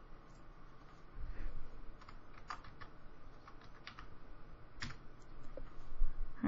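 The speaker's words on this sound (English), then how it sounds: "I'm just typing the word real quick." Quiet, quick keystrokes on a computer keyboard as a word is typed, with scattered clicks and taps over a soft room hiss and no talking.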